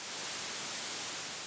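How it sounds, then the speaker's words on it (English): Plain white noise layer used for whoosh sound design, a flat, steady broadband hiss with no variation in level or rhythm, heard on its own. "Additionally, I've added some white noise,"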